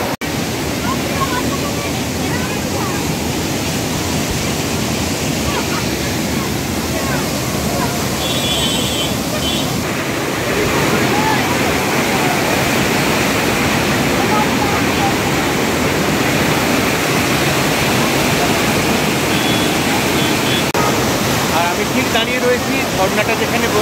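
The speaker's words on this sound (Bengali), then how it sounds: "এখানে যে ঝর্ণা বয়ে যাচ্ছে দেখো পিছন দিকে, খুব সুন্দর" A waterfall at Rock Garden near Darjeeling rushes in a loud, constant broadband roar that carries on without a break, with people talking over it.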